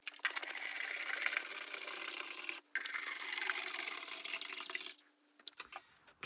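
Nutrient water poured into two clean containers for growing cucumbers, a steady close gushing pour interrupted by a brief gap, then resuming before tapering into a few trickles and light knocks.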